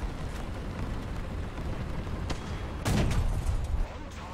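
Distant tank and artillery fire in the War Thunder battle game, a muffled rumbling backdrop with one heavier boom near the end.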